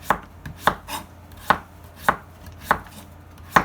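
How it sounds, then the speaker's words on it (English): A knife chops butternut squash into thin slices on a board, about seven crisp, evenly spaced cuts, close and clear, with no talking. "But there's no rhyme or reason to how you're going to chop your squash."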